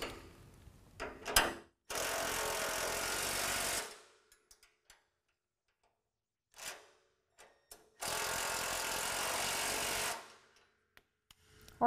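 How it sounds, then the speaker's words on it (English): Nylock nuts tightened with a 17mm ratcheting wrench while assembling a utility trailer, giving two long, steady runs of ratchet clicking close up, separated by quiet gaps and a few short clicks. "tighten up with a 17mm on each side"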